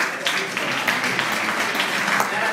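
Audience applause for a pianist at a stage event, a steady wash of many hands clapping at moderate volume, fairly even from start to finish.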